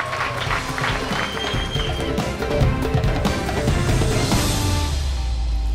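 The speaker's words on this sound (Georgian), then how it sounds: "აპლოდისმენტები" Applause from an audience greeting dancer Giorgi Murghlian at a dance battle, a dense, steady clatter of clapping that holds loud and continuous throughout, with some crowd noise mixed in.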